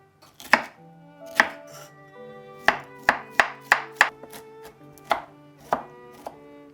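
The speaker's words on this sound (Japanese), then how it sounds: "カリフラワーをみじん切りに" Knife blade chopping cauliflower finely on a cutting board, a dozen or so sharp, close taps in an uneven rhythm, some clustered quickly together, with no voices.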